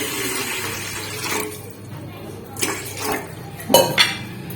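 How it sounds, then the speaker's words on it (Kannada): Water poured into the base of an idli cooker, with metallic clanks of the pot and a brief splashing pour between knocks, close and fairly loud. "ಇಡ್ಲಿ ಕುಕ್ಕರ್ಗೆ ನೀರು ಹಾಕೊಳ್ಳೋಣ ಕೆಳಗೆ"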